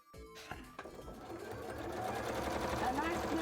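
A sewing machine whirring steadily and close by as it stitches gauntlets, rising slightly in pace, while a person talks over it.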